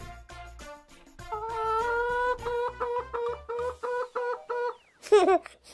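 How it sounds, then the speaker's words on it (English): A hen clucks repeatedly in a quick, rhythmic series of clear, close calls, ending with a louder burst of squawking. "Hen."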